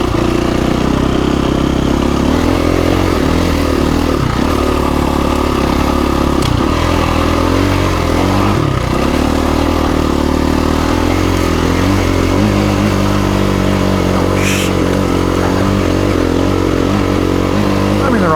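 A motorcycle rides over rough, rocky terrain near the Trona Pinnacles, its engine droning loudly and steadily with uneven revs, rattles and clatter throughout, and a voice talks briefly over it.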